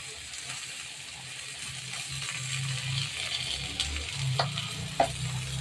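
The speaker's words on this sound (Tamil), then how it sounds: "இப்போ இது மேலே நம்ம கொஞ்சம் எண்ணெய் ஊற்றிக்கலாம்" Fish frying in oil with curry leaves, a steady close sizzle with soft stirring scrapes and a few sharp pops near the end.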